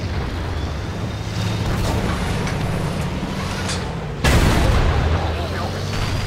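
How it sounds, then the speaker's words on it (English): A heavy tank cannon fires in the online tank battle game World of Tanks during a fight against an E75, one loud, deep boom over a constant rumbling engine and battle backdrop. "And I put another shot into the E75, and my E100 takes him out."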